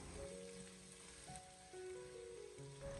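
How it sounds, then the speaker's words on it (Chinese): Chopped ginger, scallion, garlic and bird's eye chili stir-frying slowly over low heat, giving a faint, steady sizzle that runs throughout with soft tonal sounds in the background. "下切好的姜葱蒜还有小米辣，开小火慢慢的翻炒一下"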